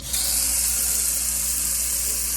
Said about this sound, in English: you're gonna wanna put some cold water in a big pot first